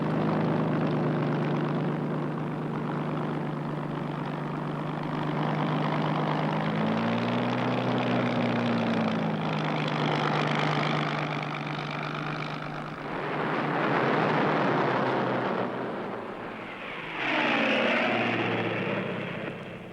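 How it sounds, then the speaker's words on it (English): WWII Coastal Command light bombers flying out over the sea, a loud continuous propeller engine drone with pitch sweeps as aircraft pass, swelling to a roar near the end. "12 light bombers of Coastal Command go out unescorted to attack the 2 German ships in their home waters"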